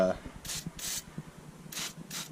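PB Blaster penetrating oil sprays onto crusty 10 mm bolts on the driver-side fender of a 2003–2007 Chevrolet Silverado/GMC Sierra, in four short, sharp hissing bursts with faint handling noise between them.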